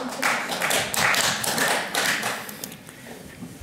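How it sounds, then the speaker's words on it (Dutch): Applause from the audience at a panel discussion, a modest, steady patter of many hands clapping that gradually thins out toward the end, moderately loud with no talk. "Een wat mager, maar toch zeker wel een applaus."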